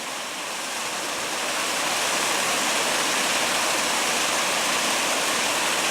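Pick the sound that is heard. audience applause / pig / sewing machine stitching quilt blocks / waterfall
waterfall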